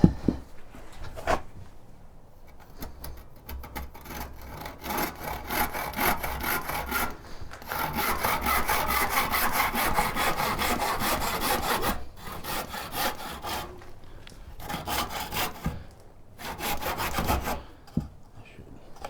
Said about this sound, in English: So now I'll actually use the handsaw again.